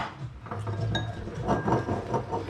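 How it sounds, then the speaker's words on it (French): Metal pots and pans clink and clatter as a saucepan is pulled out in a kitchen, a few light knocks and scrapes close by. "on va prendre une casserole"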